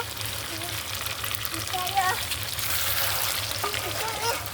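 Chicken and potato pieces sizzle and fry steadily in a pan at close range, with a low background hum, stirring, and a brief burst of added water midway.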